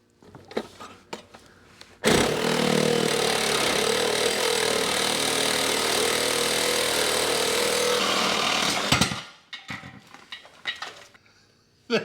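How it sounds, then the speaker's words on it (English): A Sawzall reciprocating saw cuts through an exhaust bracket on an LT1 C4 Corvette, a loud, steady buzzing rasp running for about seven seconds after brief clatter, then stopping abruptly, followed by scattered handling knocks. "we're using the Sawzall, and we're just gonna cut that bracket out"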